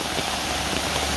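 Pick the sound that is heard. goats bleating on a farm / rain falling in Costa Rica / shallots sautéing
rain falling in Costa Rica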